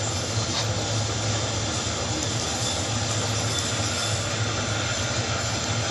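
A train rolls slowly along the rails at about 7 mph, a steady, dense rumble of wheels and wagons close by, continuous and even throughout.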